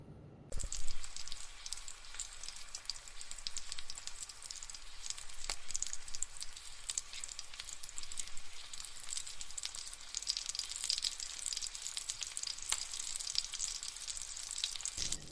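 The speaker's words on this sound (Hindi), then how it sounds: "अब एक कढ़ाई में बटर ऐड करेंगे और इसे स्लो टू मीडियम हीट पर हल्का ब्राउन होने तक पकाएंगे" Butter sizzling as it browns in a kadhai over slow to medium heat, a quiet, even crackle and hiss that continues without a break.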